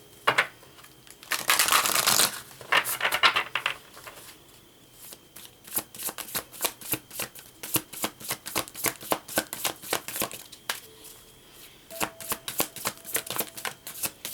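Brand-new, stiff tarot cards being shuffled repeatedly, with a quick riffle burst early on followed by rhythmic, crisp ripple-and-tap sounds, close up.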